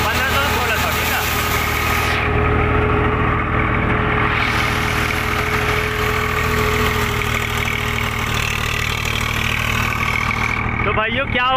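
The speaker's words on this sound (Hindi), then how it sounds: "ये देखो 1600 आरपीएम पे ट्रैक्टर चल रहा है अपना" A Swaraj 744 tractor engine running steadily at about 1600 rpm during paddy field work, a loud, close, continuous mid-pitched rumble and throb with a faint underlying knock, unbroken throughout.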